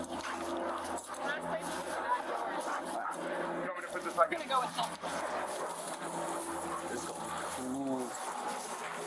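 A police tracking dog on a search gives a few yelps and whimpers amid outdoor rustle, mostly under steady talking close by.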